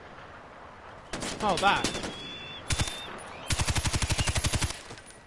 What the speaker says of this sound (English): What are you shooting at now?